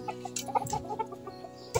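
Backyard garden chickens clucking in short, uneven bursts at close range, with soft rustling between calls and no talk.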